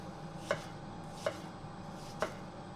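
Three sharp knife chops through an onion on a cutting board, spaced under a second apart, close and crisp over a quiet kitchen hum.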